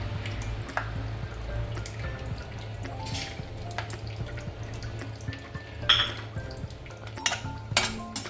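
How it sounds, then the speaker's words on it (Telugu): Whole garam masala spices including cardamom, cloves, bay leaf and shahi jeera fry in butter for dhaba-style Afghani paneer korma, with a soft continuous sizzle under repeated close stirring clinks and scrapes of a utensil against the pan. "బటర్లో ఇవన్నీ ఓల్ గరం మసాలా వేసి ఫ్రై కానివ్వాలండి"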